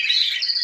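Birds in an aviary give a single bright chirp, loud and close, sliding upward partway through. No voices are heard over it.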